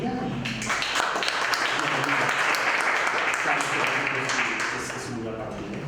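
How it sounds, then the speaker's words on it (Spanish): An audience applauds a speaker at a talk, a dense burst of clapping from a room full of people that holds steady for several seconds before easing off. "les pido un aplauso para ella"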